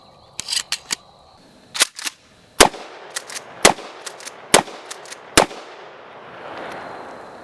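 Mossberg 590 Shockwave shotgun firing Aguila mini buckshot shells: a string of loud, sharp blasts, some in quick pairs and others spaced about a second apart, outdoors with a trailing rumble after the last shot.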